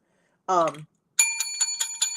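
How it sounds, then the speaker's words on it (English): Ringing a bicycle-style bell, a rapid series of bright metallic dings close by, following a short burst of voice. "I got to get the bell out for all three of you."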